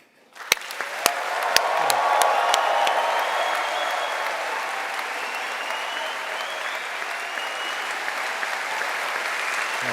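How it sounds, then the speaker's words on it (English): University graduation ceremony audience breaks into a large, sustained wave of applause and cheering after a few scattered opening claps, swelling quickly and staying dense and loud for nearly ten seconds. "this is your last chance to have a big shouting and laughing and applause"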